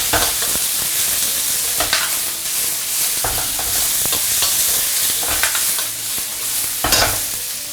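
Cucumber stir-fries in hot oil with ginger, garlic and shallot slices, giving a loud, continuous sizzle broken by repeated scrapes and clanks of the spatula tossing it in the wok.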